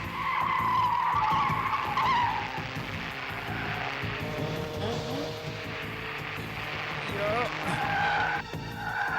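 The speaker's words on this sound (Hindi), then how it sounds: "मैं कह रहा हूं गाड़ी घुमाओ।" A car in a Hindi-dubbed Hollywood action movie skids while turning around, its tires squealing loudly in long wavering screeches over engine roar, with shouting voices mixed in near the end.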